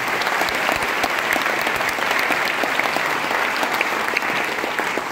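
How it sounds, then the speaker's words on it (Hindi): Audience applause fills a hall at a corporate business event, steady and dense for about five seconds with no voices rising above it. "एक बार नए लोगों के लिए जोरदार तालियां बजा दीजिए।"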